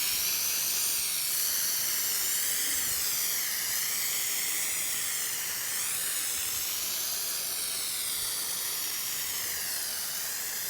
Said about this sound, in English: on this side, I am just going to spray water